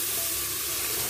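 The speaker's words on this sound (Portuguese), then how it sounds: "Um pouco de páprica doce para dar a corzinha, né? Vou refogar e colocar a costela." Steady, close hiss of food sautéing in a pan with sweet paprika before pork ribs go in, a continuous frying sizzle over its brief span with no pauses.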